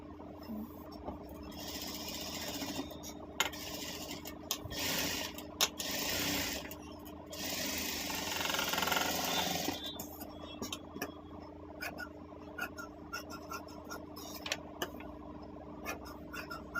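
A sewing machine stitches a simple neck design, its quiet mechanical whir running in bursts with short pauses and small clicks between runs.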